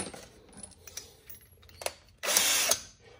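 A drill works on a brass .223 cartridge case being made into 300 Blackout brass, with light metallic clicks and taps before a loud whirring burst of drilling near the end, close up.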